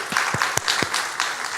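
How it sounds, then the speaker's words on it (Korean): Congregation clapping in a Korean church during a Sunday service, a short round of applause with a few louder individual claps standing out near the microphone over a softer background of hands. "우리 감사하고 위로하는 박수를 하겠습니다"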